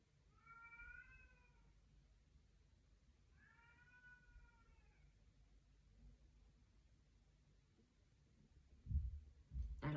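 A cat meows twice, fairly faint and a few seconds apart, over quiet room tone, followed by a couple of soft thumps near the end.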